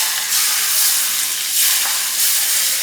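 Loud, steady sizzling and hissing of sambal goreng with bird's eye chili and garlic frying in a pan, a dense close spattering that swells and eases in slow waves.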